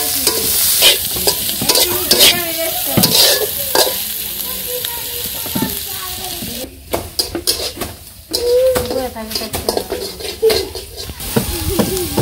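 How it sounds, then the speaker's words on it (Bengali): Green chillies and garlic fry in hot oil with cumin and onion in a kadai, a loud continuous sizzle with scraping stirs, while pigeons coo softly in the background. "কাঁচামরিচ ভালো করে একটু ভাজা ভাজা করে নিই তারপরে রসুন দিয়ে দিই"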